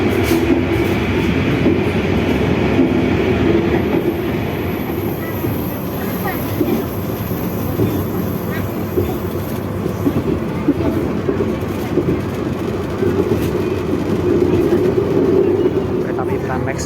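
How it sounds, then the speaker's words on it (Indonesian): A Prameks passenger train hauled by a CC 201 locomotive rolls slowly toward Wates station in Indonesia, giving a steady rumbling roar with faint clatter as heard from inside the carriage. A voice speaks over the train noise. "Ini berjalan pelan karena sebentar lagi akan memasuki di stasiun Wates, pemberhentian pertama kereta api Pramex"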